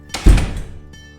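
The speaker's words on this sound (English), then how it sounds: "She ran back up to her room and slammed the door." A door slams shut in a single heavy, close thud with a brief rattle, fading quickly into quiet, as part of a story read aloud to music.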